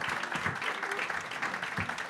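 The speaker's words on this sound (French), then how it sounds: "Et pour la mettre à l'aise, vous allez l'applaudir." An audience at a talk on career change applauds a guest speaker as she is introduced, steady, dense clapping from a nearby crowd that continues without a break for the whole stretch.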